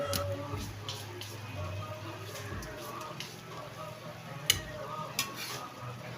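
A spoon scrapes and clinks in a pan while adobo beans simmer and sizzle softly underneath, with a few sharper knocks toward the end.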